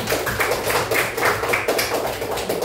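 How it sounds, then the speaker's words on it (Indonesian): A classroom full of students claps for a presenting group, producing a steady, dense round of hand clapping that stays fairly loud and close throughout. "Tepuk tangannya untuk kelompok 1."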